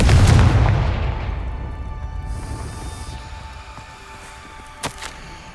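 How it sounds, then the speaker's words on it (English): Confringo blasting spell in Hogwarts Legacy: a loud booming blast opens, rumbling and fading over several seconds, then a short sharp crack lands near the end. "Protego. Confringo."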